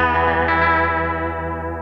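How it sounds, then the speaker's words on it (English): An electric guitar runs through a Belle Epoch Deluxe echo pedal with EP3 circuitry, set to a short repeat for vibrato. One shimmering sustained chord rings steadily and alone, slowly fading. "I've got it set to a short repeat, basically using it as a vibrato sound"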